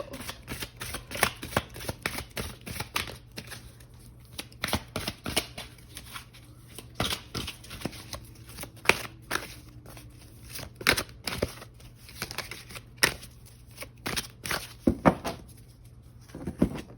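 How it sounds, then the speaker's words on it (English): Oracle cards are shuffled close up in a steady run of quick riffling slaps and flutters, repeated bursts lasting the whole stretch with brief pauses between, fairly quiet and with no voice over them. "Going to pull a few more oracle cards here, and then we are going to get in with tarot."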